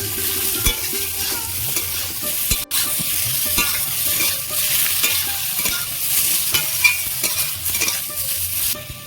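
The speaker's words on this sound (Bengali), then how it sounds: "সাথে এইভাবে ভালো করে ভাজা ভাজা করে নেব" Brinjal frying in oil for a brinjal and hilsa fish curry, a steady close sizzle with repeated spatula stirring and scraping against the pan and a sharp knock partway through.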